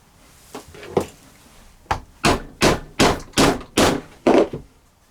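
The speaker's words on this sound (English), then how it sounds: "this is a very thick bit of leather, so I'm going to tackle it with a stitching chisel" Hammer blows drive a stitching chisel through a very thick piece of leather for an axe sheath cover, two lighter taps followed by a steady series of seven sharp, close, loud strikes.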